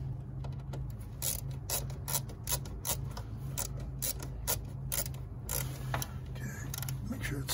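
A Phillips screwdriver tightening mass airflow sensor screws on a Honda CR-V, a quick run of small ratcheting clicks and ticks over a steady low engine-bay hum, with a person speaking.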